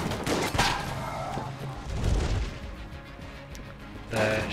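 Shell gun firing in Enter the Gungeon, a dense burst of gunfire near the start and a heavier blast cluster around the middle, with another burst at the end over busy game sound.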